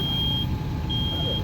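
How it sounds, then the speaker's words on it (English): A smoke alarm set off by a small fire gives a high, piercing electronic beep twice, steady and shrill, over a loud rumbling background. "Such a small fire, it's already set the smoke alarm off."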